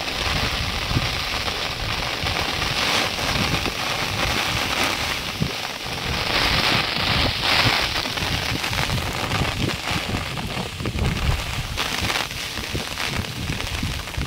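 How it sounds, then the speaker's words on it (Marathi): Heavy rain pours down in a steady, dense hiss that fills the whole stretch without a break, loud and close, with a faint low rumble underneath and no voices. "यार काय पाऊस आहे"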